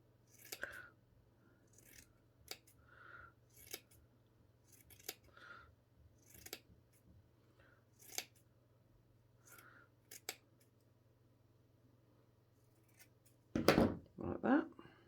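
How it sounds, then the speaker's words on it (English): Scissors snip into folded fabric for a hat, a dozen or so crisp, separate cuts spaced irregularly, close and fairly quiet, ending in a brief rustle of handling. "And I'm going to snip into it. Snip, snip, snip."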